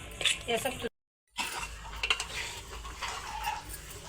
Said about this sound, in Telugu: మొత్తం పిండి ఇలాగే ఉంటలు లేకుండా కొద్దిగా వేస్తూ మనం కలుపుతూ ఉండాలి